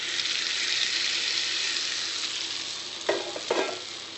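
Oil poured over tamil-style mango pickle makes a steady, close hiss that runs without a break, then two brief knocks near the end, with no voices.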